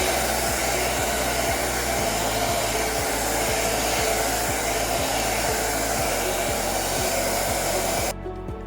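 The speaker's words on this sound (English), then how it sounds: "we need to dry the just applied ink with a hairdryer" A hair dryer blows with a steady, loud broadband whoosh and a low motor hum while drying freshly applied screen-printing ink, cutting off abruptly near the end.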